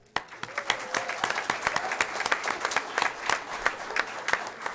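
An audience at a school district board meeting gives sustained applause for students leaving the floor, with many hands clapping in a dense, lively patter that keeps going without a break and is heard close up.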